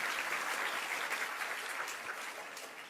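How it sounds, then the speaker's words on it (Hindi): Dense, sustained clapping from an audience at an outdoor religious discourse on a riverside ghat, loud and even throughout with no voices over it. "तालियां बजा ली।"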